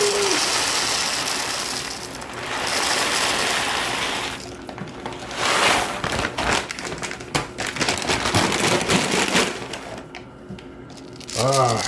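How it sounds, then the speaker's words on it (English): Fresh coffee beans whirring and crunching in a grinder, loud bursts that start and stop with short pauses, while bread bakes nearby in a kitchen. "fresh coffee beans. Grind those up and we'll have coffee"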